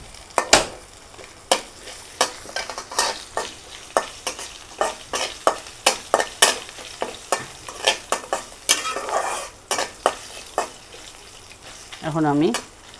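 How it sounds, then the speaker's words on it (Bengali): Crushed garlic fries with a hilsa fish head in a pan, a steady sizzle beneath repeated close clatters of a spatula stirring against the metal, and a brief voice near the end. "এখন আমি দিয়ে দেব এখানে রসুন থেতলানো। এখন একটু ভেজে নিব।"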